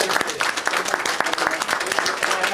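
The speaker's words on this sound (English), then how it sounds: "let's have a round of applause." Audience applause after a keynote speech at a taxpayers' annual general meeting in Point Roberts: loud, dense clapping from a room full of people, continuous throughout with scattered sharper claps.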